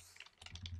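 Several quick key clicks from a computer keyboard while code is typed, a short close burst of separate taps.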